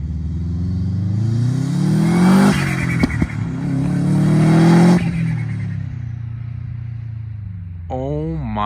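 A Subaru STI accelerates hard during a pull, its engine note climbing steadily in a loud roar heard from outside the car, dropping briefly at a gear shift before rising again, then fading away.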